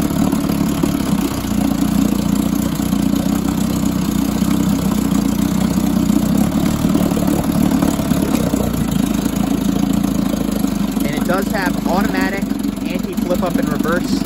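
A 1953 Scott-Atwater 7.5 hp Gold Pennant outboard motor runs on a slightly rich mixture, a loud steady close idle drone throughout, with someone talking over it.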